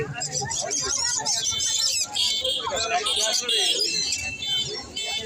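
Black-capped lory calling at a foreign bird market, sharp repeated squawks and chirps amid a busy chorus of other caged birds, with people talking nearby throughout.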